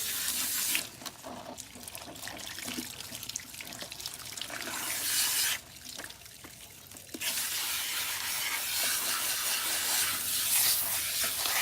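Water runs steadily from a salon sink tap while hair is shampooed, a continuous broadband rush with brief dips where the flow is interrupted or redirected.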